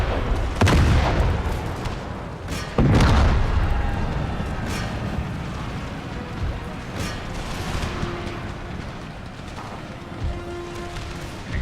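Musket volleys and artillery fire from a battle in the Empire Total War video game, with loud booming blasts early on that settle into a rumbling, crackling battlefield din.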